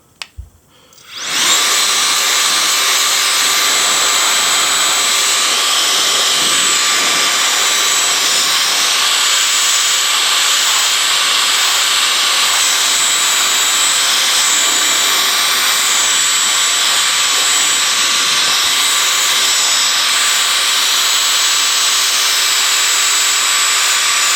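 A Nitecore BlowerBaby electric air blower runs while cleaning a camera, starting with a few clicks and then spinning up into a loud, steady high-pitched whine and rushing airflow that holds unbroken for over twenty seconds.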